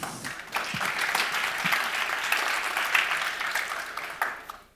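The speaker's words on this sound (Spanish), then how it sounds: "Un aplauso para Felipe, por favor." An audience at a tech conference talk breaks into sustained applause, dense clapping holding steady for several seconds before quickly fading out.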